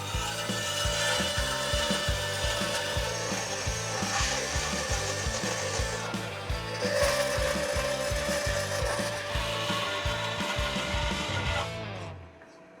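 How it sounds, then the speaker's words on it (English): A bandsaw cuts through 3/16-inch steel plate in a workshop: continuous loud grinding rasp over a rapid low thumping pulse, running steadily before the blade stops near the end. "Now I'm going to run it through the bandsaw"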